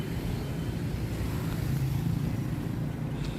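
Motor vehicles stream through busy Malioboro street in Yogyakarta at night on the eve of Eid al-Fitr. A dense, steady traffic rumble carries on without a break, with no voices.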